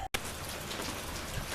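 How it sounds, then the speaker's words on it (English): Steady rain falling outdoors, a dense, even hiss of drops on surfaces, close and loud, after a brief cut of silence at the start, with no talking. "It's starting to rain out here."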